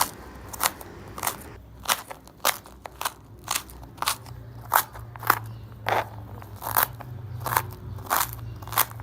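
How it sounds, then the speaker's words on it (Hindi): Cabbage is chopped finely for street-style sev chaat, with crisp, crunchy cuts landing in an uneven rhythm of roughly two per second, close and distinct over a quiet background. "बंद गोभी को भी हमने इसी तरह से बिल्कुल बारीक काटना है।"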